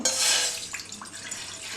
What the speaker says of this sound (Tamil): இந்த மாதிரி ஒரு பேன் எடுத்துட்டு 300 ml தண்ணி அதுல ஊத்திடலாம்.